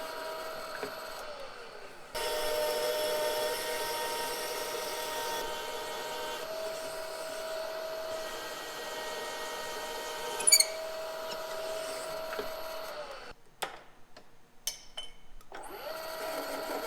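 A power drill whines steadily as it bores through a metal Minneapolis-Moline G1000 cylinder head, holding an even pitch for several seconds before cutting off, followed by a few sharp clicks.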